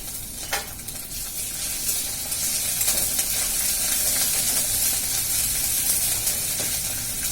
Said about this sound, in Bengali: আদা দিলেই পটপাট।